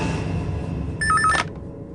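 A short burst of electronic telephone ringing sounds as a phone call is placed, a quick warbling tone pattern lasting about half a second against a busy background hum.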